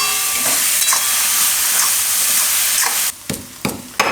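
Chili masala sizzles steadily in a hot pan as it is stirred, a loud continuous frying hiss that stops briefly near the end, replaced by a few sharp scraping stirs.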